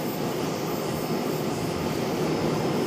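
Boeing 777-300ER jet arriving to land at Charlotte, heard from an observation deck as a steady, broad engine roar at moderate distance that holds level throughout, without any talk.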